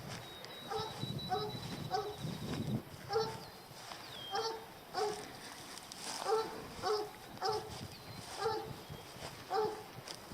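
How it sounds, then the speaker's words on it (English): A black and tan coonhound barks outdoors in repeated, evenly spaced bursts of loud, nearby woofs, with a faint high whine or whistle in the background and no talking. "It's a black and tan coonhound, but he doesn't coon hunt."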